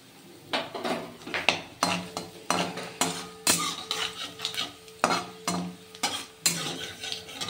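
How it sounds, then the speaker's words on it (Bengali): Garlic and nigella seeds frying in oil in a pan, with repeated sharp scraping and clinking of a utensil stirring against the metal in a steady rhythm over a soft sizzle, close and fairly loud. "এবার দেবো কালো জিরে ফোড়ন।"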